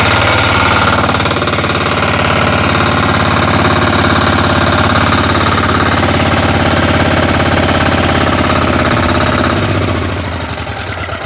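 Motor Sich walk-behind tractor engine running: a loud, steady, rough chugging drone with rattling vibration that stays constant throughout and eases slightly at the very end, with no talking.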